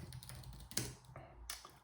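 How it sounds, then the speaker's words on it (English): Someone types on a computer keyboard, producing soft, irregular clicks and taps at close range, quiet and without speech. "So sometimes I'm typing, I'm not, sending messages most of the time."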